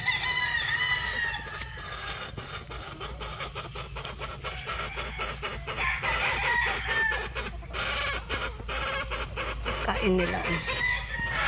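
Stag gamecocks crow repeatedly and cluck close by, their calls overlapping in bursts throughout, with someone speaking briefly over them.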